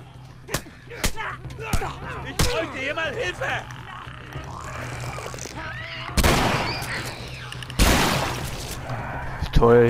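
Sharp gunshot cracks from The Last of Us, in a gym fight against a Bloater, ring out several times, a few single shots then louder bursts, mixed with game noise and a voice talking.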